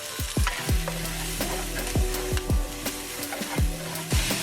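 Onions and garlic sizzling in hot oil in a pan for chicken fried rice: a steady, close frying hiss broken by regular scraping stirs roughly every half second, with no talking.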